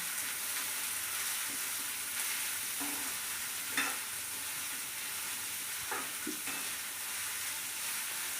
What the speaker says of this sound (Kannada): ಈರುಳ್ಳಿ ಸ್ವಲ್ಪ ಲೈಟಾಗಿ ಕಲರ್ ಕೆಂಪಾಗೋವರೆಗೂ ಚೆನ್ನಾಗಿ ಫ್ರೈ ಮಾಡ್ಕೊಳ್ಳಿ